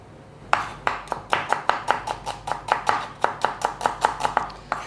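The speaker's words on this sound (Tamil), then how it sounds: "வெங்காயத்தை முதல்ல வெட்டிக்கிடுவோம்." Onions chopped with a knife on a board in a quick, steady run of about twenty sharp, close chops, with no voices.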